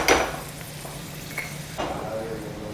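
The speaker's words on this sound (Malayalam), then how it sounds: "ഈ സെയിം എണ്ണക്കകത്ത് തന്നെ നമുക്ക് കാഷ്നട്ട്സും റൈസിൻസും ഒന്ന് ഫ്രൈ ചെയ്ത് മാറ്റാം" Cashews and raisins fry in oil for a Malabar chicken dum biryani, a close crackling sizzle with spoon scrapes and a few metallic clinks of the pan.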